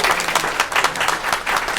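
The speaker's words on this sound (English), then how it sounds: "Big round of applause" An audience applauding at a legislative preview event in Hawaii, dense steady clapping from many hands filling the room, loud and continuous.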